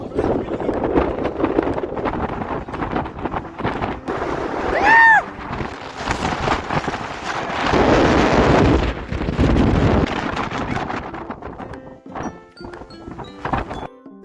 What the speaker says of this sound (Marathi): वाऱ्याचा आवाज ऐका तुम्ही